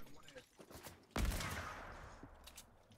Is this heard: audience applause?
no